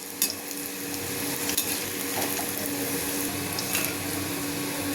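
Okra (bhindi) frying in a pan of oil makes a steady, close sizzle with a few sharp spatters and light stirring clicks throughout, and no speech is heard.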